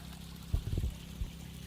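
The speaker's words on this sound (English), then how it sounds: "Clearly the water pressure is much higher coming out of the 3-inch" Water rushes out of a 3-inch underground downspout drain pipe in a backyard demonstration running about 140 gallons per minute, a low steady gush with a few heavier surging splashes.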